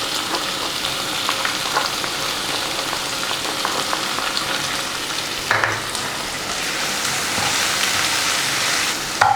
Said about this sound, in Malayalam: ഇനി നമുക്ക് ഇതിനകത്തോട്ട് ചതച്ച് വെച്ചിരിക്കുന്ന ചുവന്നുള്ളി ചേർത്ത് കൊടുക്കാം.